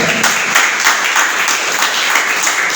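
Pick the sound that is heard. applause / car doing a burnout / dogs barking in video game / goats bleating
applause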